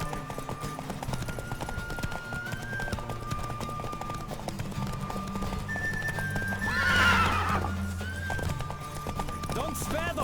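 Horse galloping in the video game The Witcher 3: Wild Hunt, a steady rapid clip-clop of hooves with a whinny partway through, loud and continuous under game music.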